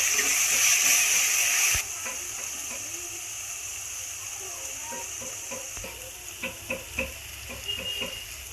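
Softened onions fry in a pan with ginger garlic paste and masala for a prawn curry, giving a steady close sizzle that drops quieter partway, then scraping stirs and clicks of a spoon against the pan.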